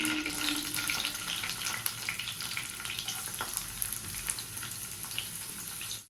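Onions frying in hot ghee in a pan for homemade biryani, giving a steady, close sizzle with light crackle throughout and no talking.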